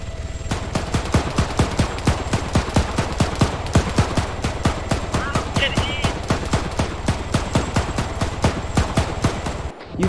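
Sustained rapid automatic gunfire in the video game Arma 3, a long, evenly paced burst of loud shots lasting about ten seconds before stopping abruptly.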